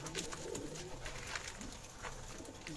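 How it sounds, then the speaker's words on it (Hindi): Pigeons cooing on a rooftop loft, soft repeated low coos against a constant background hiss, with no talking. "बहुत ही अच्छे कबूतर हैं उस्ताद जी के माशाल्लाह"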